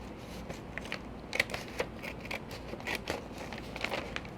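Crisp snipping of scissors slicing along the fold of a paper bag, a series of short irregular cuts close by, with no talking.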